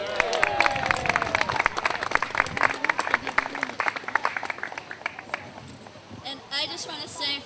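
An outdoor crowd at an eco fair and farmers market bursts into dense clapping and cheers, the applause fading after a few seconds as scattered voices and movement carry on.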